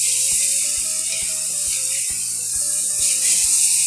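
Steaks sear in a hot pan with a loud, steady hiss and crackle that runs throughout, while a tune plays softly underneath.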